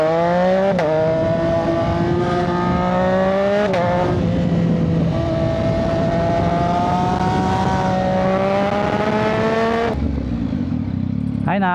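A Suzuki Hayabusa 1340cc motorcycle engine loud and close, revving with rising pitch in several pulls, each climb cut by a sharp gear change and settling at a steady drone before a drop near the end.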